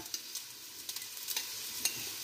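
Onions sizzle steadily in a hot pan, with scattered crackles and a few stirring scrapes, close and fairly quiet, no talking.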